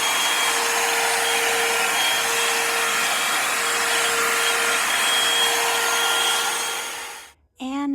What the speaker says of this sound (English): So now let's just blow it out with a blow dryer